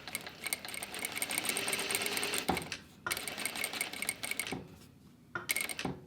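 A sewing machine stitches along a small curve with a short stitch length, running in quick rapid bursts broken by brief pauses, close and fairly loud.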